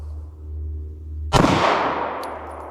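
A single sharp report from a Taurus GX4 micro pistol fired at a target outdoors, a loud close crack with a ringing decay after a low background hum.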